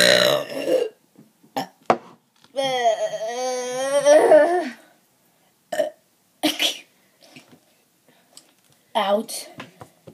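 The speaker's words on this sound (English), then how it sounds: "a little burp came out" A baby lets out a long, drawn-out burp with a wavering, throaty tone, preceded and followed by short bursts of nearby adult talk and small sounds.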